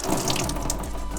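Water from a washstand bin in a yurt on Olkhon Island, Lake Baikal, released by a push valve and pouring steadily into a dirty water bin below, a continuous close splashing stream.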